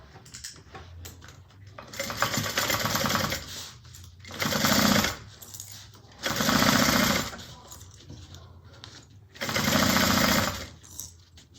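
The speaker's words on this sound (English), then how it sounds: "And we're going to stitch at 1/4 of an inch." A sewing machine stitches a fabric bag at a quarter-inch seam, running in four loud bursts of rapid mechanical whirring separated by quieter pauses with light handling clicks.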